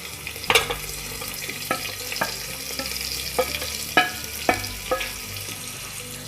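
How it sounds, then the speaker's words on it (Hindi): Onions sizzle steadily in a hot pan, with sharp scraping clicks of a spoon stirring at irregular intervals. "सारे प्याज को इसमें हम डालकर इसको भुनेंगे।"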